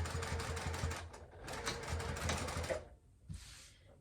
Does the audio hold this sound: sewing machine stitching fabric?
yes